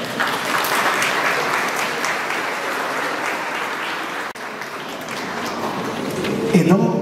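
A church congregation at a baptism claps in sustained, dense applause that holds steady for several seconds, then briefly drops out and resumes, with a voice emerging near the end.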